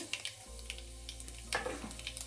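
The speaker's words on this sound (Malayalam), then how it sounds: "നമുക്കിനി ഇതിലേക്ക് കടുക് ചേർത്ത് കൊടുക്കാം." Mustard seeds added to hot oil in a pan for beans poriyal give a soft, steady sizzle with scattered small pops and crackles, close and quiet, no speech.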